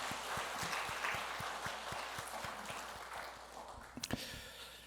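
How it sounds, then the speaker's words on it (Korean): Church congregation clapping together during a Korean worship service, a moderate wash of applause with some distinct rhythmic low thumps, tapering near the end where a few sharper sounds stand out. "박수 한번 하겠습니다."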